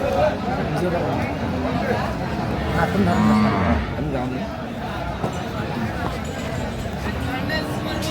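A dairy cow mooing once in a long, loud, low call amid the crowd babble and haggling voices of Aftabganj cattle market in Dinajpur, with people talking throughout.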